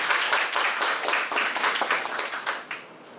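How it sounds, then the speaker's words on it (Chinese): An audience at the COSCUP 2019 open-source conference claps to welcome a speaker, a dense, moderately loud patter of many hands that holds steady and then trails off near the end. "请大家鼓掌欢迎他"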